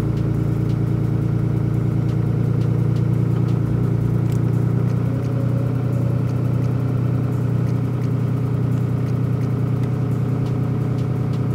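A Chevrolet L5P Duramax diesel truck engine idles high and steady, a continuous loud low rumble with a constant throbbing drone and no pauses.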